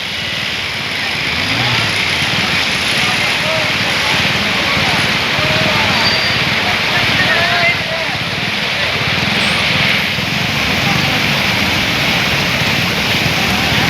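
Steady rushing water flows beneath the Ujani bridge, a dense broadband roar that holds constant and fairly loud throughout, with traffic or wind mixed in.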